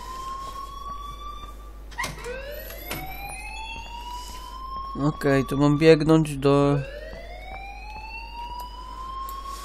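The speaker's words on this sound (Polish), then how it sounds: "Leave Miss Caulfield alone and please turn off that alarm" An alarm ringing inside the video game Life Is Strange, rising sweeping tones that build into a loud, pulsing electronic wail near the middle, with someone talking over it.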